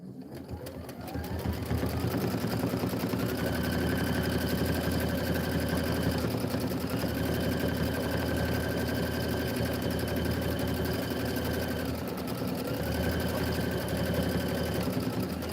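A Brother Avenir sewing machine doing background quilting runs with a steady, rapid mechanical whir and needle chatter, close and continuous, pausing briefly twice.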